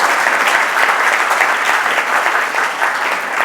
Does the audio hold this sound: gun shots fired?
no